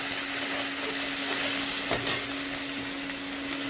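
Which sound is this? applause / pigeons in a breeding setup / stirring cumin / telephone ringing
stirring cumin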